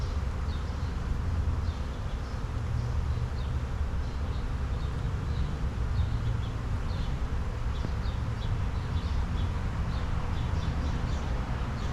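Dense, steady hum of honey bees buzzing around a beehive, a continuous close swarm drone with no talk.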